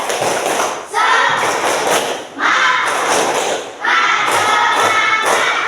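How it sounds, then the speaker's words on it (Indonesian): A primary school class doing a rhythmic spirit clapping routine, loud bursts of claps and thumps in repeated patterned groups with short pauses between, close and energetic. "Kita tepuk semangat."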